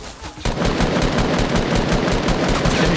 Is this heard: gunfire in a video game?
yes